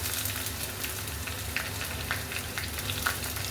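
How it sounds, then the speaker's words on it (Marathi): Onion frying in oil with curry leaves, green chili and garlic paste for a besan pithla, a steady soft sizzle with faint crackles throughout, no talking. "कढीपत्ता, हिरवी मिरची आणि लसूणची पेस्ट केली आहे। आता टाकूया कांदा।"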